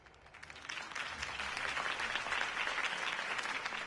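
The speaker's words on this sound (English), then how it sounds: "could have heard that applause" A crowd breaks into applause after Harvey Dent's campaign speech, the clapping swelling from a few hands into a dense, sustained ovation that holds steady throughout.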